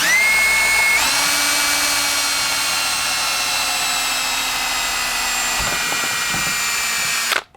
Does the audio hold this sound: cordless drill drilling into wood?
yes